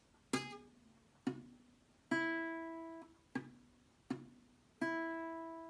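Six separate plucked guitar notes sound one after another, some dull and quickly choked from weak fretting, others ringing out clearly, in a quiet setting.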